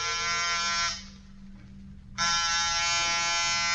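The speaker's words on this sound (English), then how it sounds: "Get off the buzzer." Door buzzer in an old-time detective radio drama: a loud, harsh electric buzz held for about a second, a brief break of near silence, then the same steady buzz again.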